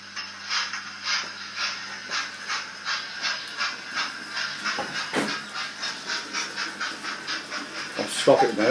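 A model train of two Class 87 locomotives runs close by with a steady, rhythmic clicking and chuffing that repeats about twice a second, with a few louder clanks near the end.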